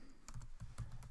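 Someone types label titles on a computer keyboard. A quick run of about half a dozen close, crisp keystrokes, with no voices.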